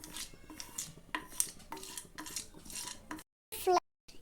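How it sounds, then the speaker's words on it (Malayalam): Popcorn kernels scrape and rattle as they are stirred in a pan over a low flame, a close run of metallic clinks and scrapes, with brief speech and a short silent gap near the end. "അപ്പോൾ ഗായ്സ് നമുക്ക് ഇത് പതുക്കെ ഒന്ന് ഇളക്കിട്ട് കൊടുക്കാം."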